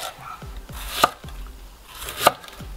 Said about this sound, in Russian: И легкими движениями руки начинаем шинковать капусточку.